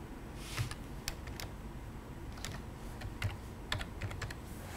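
Keys clatter on a computer keyboard during a university lecture, sharp clicks arriving in irregular bursts and short runs with brief gaps between them, close and clear over a quiet room hum.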